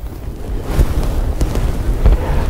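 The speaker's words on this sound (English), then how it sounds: "You can see the wind blowing." Wind gusts outdoors at a rifle range, a loud, steady low rumble of buffeting air against the microphone with no talking.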